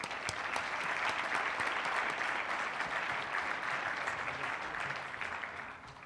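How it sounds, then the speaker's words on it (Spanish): Audience applause at a panel forum on wellbeing in Latin America, a sustained, moderately distant wash of clapping that holds steady and then tapers slightly at the end. "Un aplauso, por favor."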